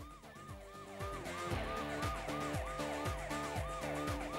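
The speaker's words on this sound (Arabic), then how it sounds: "ظهرت سيارات الشرطة وصافراتهم وأضواؤهم" Police car sirens wail in a repeating up-and-down cycle, loud and continuous throughout, with a steady low rumble of traffic underneath and no voices.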